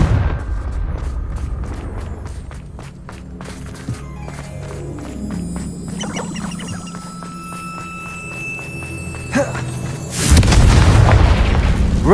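A Confringo fire spell explodes in the Hogwarts Legacy video game, a loud booming blast that swells near the end amid dense game effects and music, without talk.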